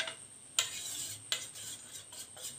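Spoon stirring cumin seeds into buttermilk upma batter in a pot, with a few sharp scraping clinks against the pan and a soft, continuous stirring rub, close and quiet with no voices.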